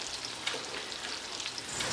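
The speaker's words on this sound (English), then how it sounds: "our fish is sizzling away and it smells awesome" Steady, close sizzling and crackling of potato chip and parmesan crusted swordfish frying in hot oil, continuous bubbling hiss with small pops and no voices.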